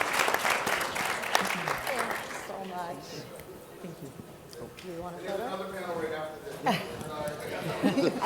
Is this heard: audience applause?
yes